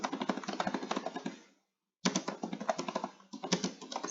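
Rapid clicking of a computer keyboard as a class announcement is typed into a Google Classroom post, close and steady in two bursts separated by a short silence.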